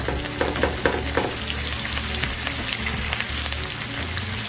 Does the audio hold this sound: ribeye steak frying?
yes